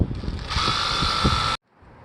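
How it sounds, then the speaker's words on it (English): A power drill drives screws into the MaxxAir fan trim on the roof of a Mercedes Sprinter camper van, whining steadily and loudly for about a second and a half before cutting off abruptly. "then go ahead and screw everything down."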